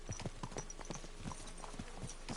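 A horse's hooves clip-clop in the video game Kingdom Come Deliverance 2, with a brisk, steady rhythm of distinct hoof strikes at moderate distance and no talking.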